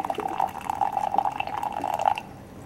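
A test tube being lowered into hot water from a kettle gives a soft liquid trickle with a bright, ringing glassy tone that rises and wavers, then fades away near the end; quiet with no talking.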